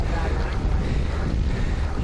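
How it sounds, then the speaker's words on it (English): Strong gusting wind buffets the microphone of a cyclist riding through the high desert near Reno, Nevada, a loud steady rumbling roar with no talking. "It was a horrible windy day."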